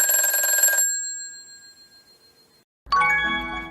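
A telephone rings as a call connects: a bright electronic ringing tone sounds, breaks off into near silence, then a second, denser ringing burst starts. No voices are heard.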